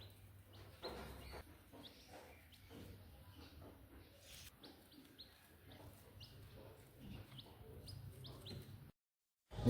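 Tiny newly hatched chicks from a natural hen-brooded clutch peep in repeated short, high chirps at close range, scattered over a steady low background with no talk.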